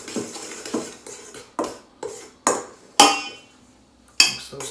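Utensil scraping and clinking in a bowl as granulated garlic and chipotle powder are stirred into a breading mix, with about seven distinct sharp strikes and scrapes at irregular intervals, close and fairly loud.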